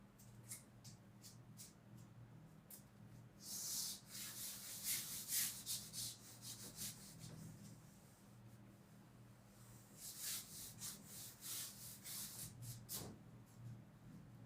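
A duster or cloth rubs chalk writing off a classroom board during a geometry lesson, giving two soft, faint bursts of scratchy swishing over a low steady hum.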